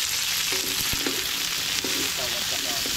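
Vegetables sizzle loudly in a hot pan, a dense steady frying hiss with a few clinks and scrapes of a utensil stirring them, close and continuous.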